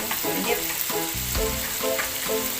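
Tenderized chicken feet hit a hot frying pan for a chicken feet and alugbati dish, crackling and sizzling steadily with repeated stirring clatters, close and clear, no voices.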